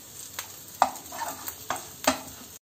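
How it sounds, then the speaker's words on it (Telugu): Leftover idli pieces frying in a pan with sambar powder masala, four quick spatula scrapes and taps over a low sizzle, close and quiet with no talk. "ఇలాగే మనము ఫ్రై చేసుకోవాలి"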